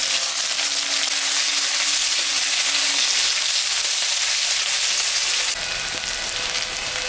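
Sliced onion hits hot oil already holding dried red chilli and cumin, setting off a loud, steady, close sizzle with a bright hiss that runs unbroken, then shifts and drops slightly in tone near the end.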